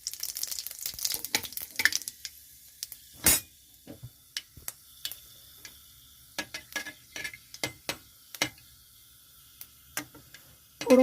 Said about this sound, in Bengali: ফোড়নটা একটু ভাজা হয়ে গেছে।